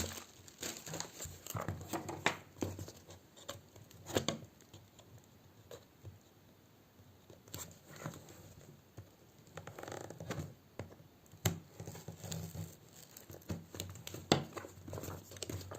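Close, quiet crinkling and tearing of tape on a large box of Rubik's cubes and cube lubricants, with irregular rustles and scratchy pulls in bursts and short pauses between.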